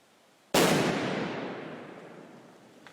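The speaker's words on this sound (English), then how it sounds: "police resorted to throwing a grenade towards the bunker" A grenade thrown by police toward a bunker goes off in a single loud, sharp blast, then a long rumbling decay that fades over the next two seconds.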